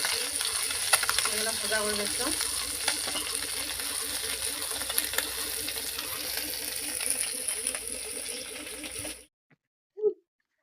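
Food fries in a pan of hot oil, a continuous bright sizzle with soft stirring clatter running for several seconds before cutting out, followed by a single brief sound in silence.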